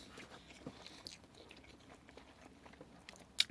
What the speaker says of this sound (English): With each bite, you can definitely taste the cheddar cheese.